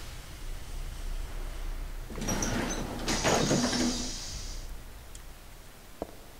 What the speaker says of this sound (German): Die Tür ist aufgegangen.